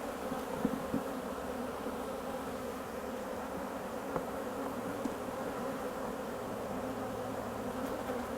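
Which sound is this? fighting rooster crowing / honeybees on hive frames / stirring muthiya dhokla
honeybees on hive frames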